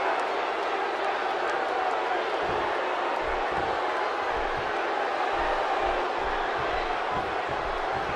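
Arena crowd in the WWE 2K16 wrestling video game, a steady, dense wash of cheering and murmur that holds at even loudness throughout, with indistinct chanting and thumps underneath.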